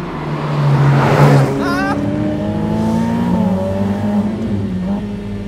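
Ferrari F8 Tributo downshifting hard under braking, engine revs blipping up and stepping down through several gears in quick succession, loud and close from inside the car.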